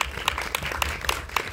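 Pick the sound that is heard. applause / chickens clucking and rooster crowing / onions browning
applause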